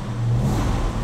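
A 7.2-liter Dodge Charger RT muscle car engine roars in a loud, steady rev with deep low rumble, close up and unbroken throughout with no talk.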